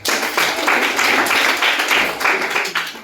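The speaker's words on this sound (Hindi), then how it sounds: "ताली बजाते इस बच्चे के लिए" Schoolchildren in a classroom clapping for a classmate, a close burst of many hands beating in a quick, slightly uneven rhythm for about three seconds.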